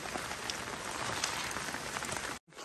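Heavy rain pours steadily in a rural Vietnamese setting, a dense, loud hiss of drops on surfaces that cuts out briefly near the end before resuming.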